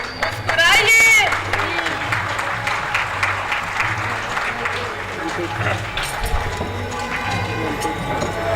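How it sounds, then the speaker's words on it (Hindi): Loud, sustained applause from a theatre audience at the close of a Hindi stage play, dense clapping with crowd murmur and voices mixed in throughout. "जोरदार तालियां"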